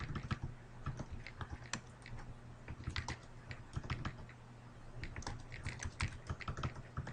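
Typing on a computer keyboard, a close, quiet flurry of irregular key taps and clacks in bursts with short pauses between, heard with nothing else over it.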